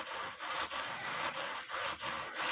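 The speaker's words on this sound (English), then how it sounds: "sit here and rub the chain back and forth through the scrubby pad" A cuckoo clock chain is rubbed back and forth through a scrubby pad, a steady close-up abrasive scratching in a regular rhythm of strokes with brief dips between them.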